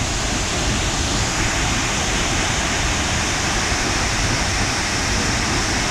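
Karukulam waterfall in heavy monsoon flow, a loud, steady, broadband roar of rushing water filling the whole scene without a break.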